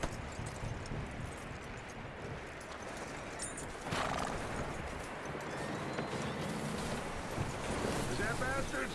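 Horse neighing and clopping hooves in the video game Red Dead Redemption, a whinny standing out over steady wind-like ambience and hoofbeats, with speech heard in the scene.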